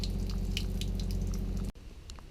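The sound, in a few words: water draining from Adria motorhome water tank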